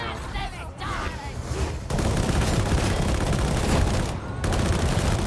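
Sustained bursts of rapid gunfire from a Gunner Executor Stealth Zealot character in a shooter video game, dense and loud, with a brief pause in the middle before the firing resumes.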